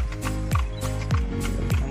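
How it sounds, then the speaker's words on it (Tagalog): A horse pulling a kalesa through the streets of Manila clip-clops in a steady, close rhythm of sharp hoof strikes on pavement, with a low hum of surrounding noise. "Ayan, may kabayo."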